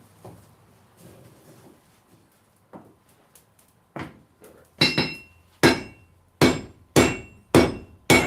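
A hammer forges a blade of 6160 leaf spring steel: a few light taps, then six or seven loud, evenly spaced ringing blows on hot metal, with no talk.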